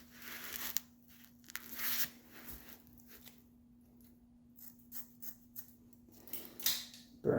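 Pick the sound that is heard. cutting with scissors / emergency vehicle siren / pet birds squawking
cutting with scissors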